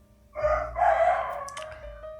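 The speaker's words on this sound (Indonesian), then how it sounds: "Itu kan suara ayam, jadi kedenger udah pagi." A rooster crows once at early dawn, a clear, moderately loud cock-a-doodle-doo rising and holding before trailing off, over quiet background hum with no voices.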